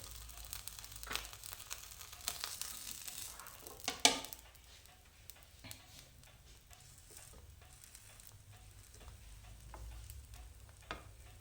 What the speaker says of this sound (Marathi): सगळ्या बाजूने बन व्यवस्थित भाजून घ्या.